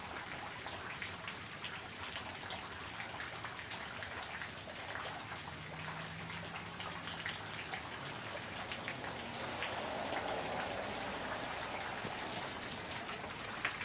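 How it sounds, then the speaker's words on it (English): Steady April rain falling outdoors near a street, a soft continuous patter and hiss that holds evenly for the whole stretch with no voices. "I can promise you this, it's still raining."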